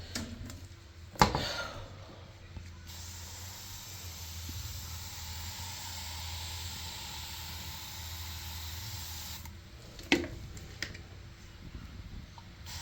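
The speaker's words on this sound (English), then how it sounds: "Spraying all the surfaces." A long steady hiss from a spray bottle misting bathroom and toilet surfaces lasts several seconds, bracketed by a few sharp clicks and knocks before and after.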